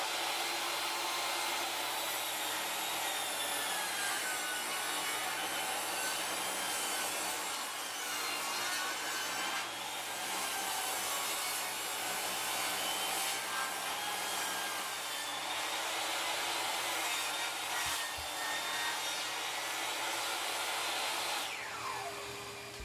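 A 2x4 is ripped lengthwise into narrow strips, a steady, whining saw cut droning continuously through the wood, close and loud, with no talking, and the blade winds down at the end.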